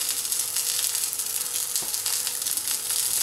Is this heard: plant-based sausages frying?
yes